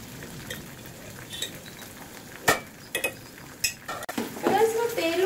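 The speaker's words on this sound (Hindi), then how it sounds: "अब मैं इसमें सिर्फ दो चम्मच टमाटो प्यूरी जो हमने रेडी की थी वो डालूँगी" Tomato puree stirred into a frying pan: a soft background sizzle with occasional scrapes and clinks of a spoon against the pan, the contact sounds sharper toward the end.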